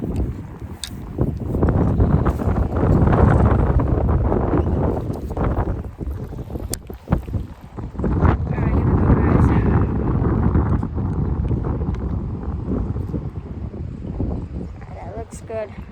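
Wind sweeps over an open pond and buffets the microphone in loud, rolling low rumbles that swell and ease, with a voice talking now and then under the roar.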